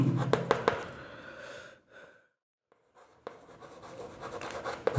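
Pen scratching across paper in quick strokes, close and fairly quiet, pausing into near silence midway before the writing resumes.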